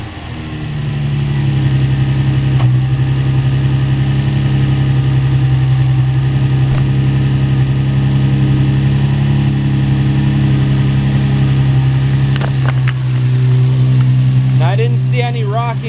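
A Nissan G35 V6 engine starts and settles into a loud, steady idle, a low continuous rumble close by with a slight dip late in the run and faint clicks.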